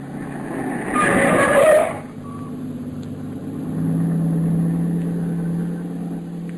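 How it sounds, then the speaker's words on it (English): A car drives past in a 1949 radio drama scene, a brief swelling whoosh of engine and tyre noise that fades quickly, followed by a low steady engine hum from the car the listener rides in. "That car that just passed."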